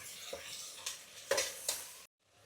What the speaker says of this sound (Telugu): ప్రాన్స్ వేసేసాను కదా, బాగా వేపుకుందాం.